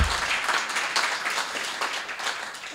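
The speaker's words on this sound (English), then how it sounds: "So please give another round of applause for Cam." A round of applause from an audience at an Asian American storytelling show, honoring a performer; steady dense clapping fills the whole short stretch at moderate volume without pause.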